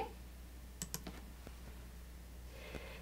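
A few sharp computer mouse clicks on a desktop, faint and close, spaced irregularly over a quiet room-tone hum, with no talking.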